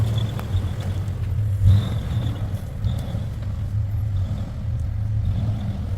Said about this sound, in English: You can hear him having to use that clutch